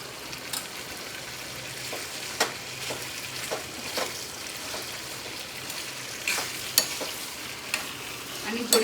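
Sliced potato chips sizzle steadily in a pan as a spoon stirs them with chutney, with sharp scrapes and clinks against the pan over the continuous frying hiss, close up and with no talking.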